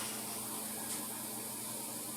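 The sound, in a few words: airbrush blowing out spray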